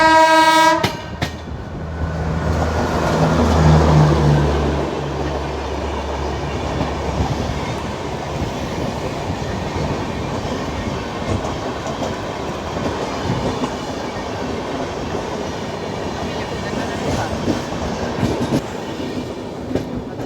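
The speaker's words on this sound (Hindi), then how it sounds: "और सामने से आ रही है रानी कमलापति नई दिल्ली शताब्दी एक्सप्रेस।" Rani Kamalapati–New Delhi Shatabdi Express with ICF coaches approaching near Bhopal, opening with a loud sustained horn blast, then a long steady roar and rhythmic clatter of coaches rushing past at close range.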